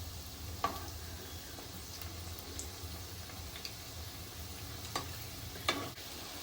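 Onion bhajis fry in oil with a quiet, even sizzle, broken by a few sharp clacks as the fritters are turned.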